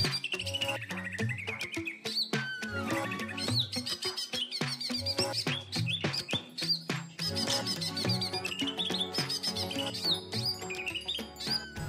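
Green leafbird (cucak hijau) being readied for a songbird contest, singing continuously with varied whistled phrases and rapid chirps over a musical or busy background, fairly loud and sustained throughout.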